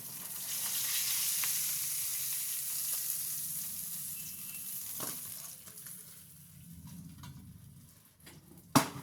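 Pieces of rui fish sizzle in hot oil with a dense, crackling hiss that gradually softens, broken by a couple of sharp clicks near the end.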